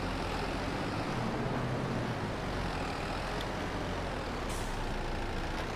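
A Kubota tractor engine in the Farming Simulator 22 video game idles with a steady, loud, continuous mechanical drone. A faint hiss comes near the end, and no one speaks.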